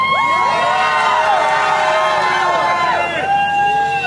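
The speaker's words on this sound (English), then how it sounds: "let me hear your scream" A large crowd of striking court workers at a rally screams and cheers loudly, many high voices whooping at once in a sustained, dense roar.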